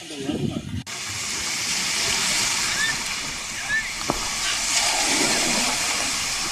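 Floodwater released through the Srisailam dam gates makes a steady, broad rushing roar that runs without pause, with a brief voice at the very start.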